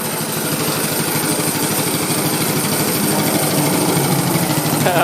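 A vehicle engine pulls hard under light throttle, a steady loud, rough drone that stays dense and continuous throughout, with no talk over it.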